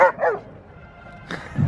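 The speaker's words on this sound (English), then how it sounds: "He gets barked at and he just goes right back at him." A dog barks twice in quick succession up close, then after a short pause lets out another bark and a low yelp, loud and without talk.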